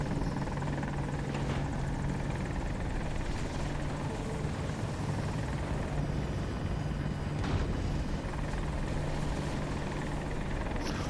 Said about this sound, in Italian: Oh, elicottero davanti a noi lui.